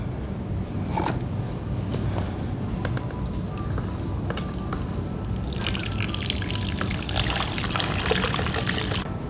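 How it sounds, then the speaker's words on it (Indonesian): Water trickles and splashes steadily onto soil while watering an aglaonema plant, with a brief heavier pour near the end; no voices. "Nah, selesai itu kita siram."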